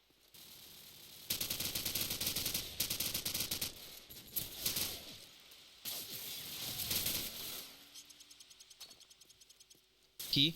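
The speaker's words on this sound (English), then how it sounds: "And Lime, he's pretty much shooting down all the Amazing members" Rapid automatic gunfire from a Call of Duty 4 online match rattles in dense bursts, with a long volley early on and another a few seconds later, along with softer mechanical clicks in between.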